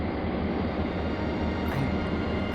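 A freight train rolling on rails, a loud steady low rumble and roar of cars passing close by, with no voices.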